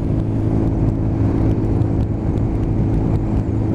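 A Honda CB125 motorcycle engine runs steadily on a test ride, a continuous loud low buzzing drone with a slight rise in revs, close up and without talk.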